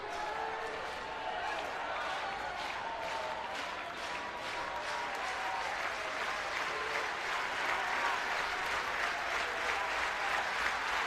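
A crowd of about 9,715 fans at a 2018 NCAA baseball regional final in Fayetteville, Dallas Baptist against Arkansas, cheers and claps in a steady dense roar that fills the stadium. A commentator's voice can be heard over the noise.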